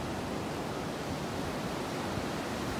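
Heavy waves wash onto a North Naples, Florida beach in rough, rainy weather, a steady broadband rush of surf and wind filling the air without pause or voices.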